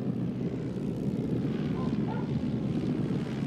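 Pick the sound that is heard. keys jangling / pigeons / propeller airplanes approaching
propeller airplanes approaching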